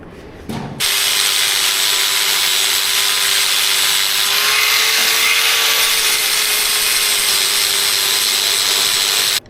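A power sander with a 60-grit disc whines loudly and continuously on International B414 bonnet metal after a brief start-up, grinding steadily with a high, harsh rasp until it cuts off at the end.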